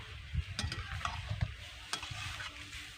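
Pumpkin curry is stirred in a frying pan with a spoon, giving irregular scraping strokes over a soft, steady sizzle, close and moderately quiet, with no voice.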